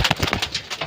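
Racing pigeons of sprinter type from a breeding loft, with soft repeated cooing and light wing and body sounds close by, in short pulses throughout.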